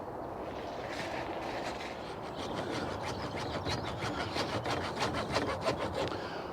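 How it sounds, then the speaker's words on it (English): A hand saw with fine teeth cuts through a length of 22mm pipe, its rasping back-and-forth strokes close and steady, becoming more distinct and rhythmic toward the end. "I've got some lengths of 22mm pipe here, and I reckon if I chop these in half it'll give us a nice size hoop for these."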